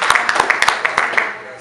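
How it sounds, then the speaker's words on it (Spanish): Brief scattered audience clapping during a Spanish-language medical lecture, a handful of distinct claps close together fading out quickly. "Fuerte aplauso"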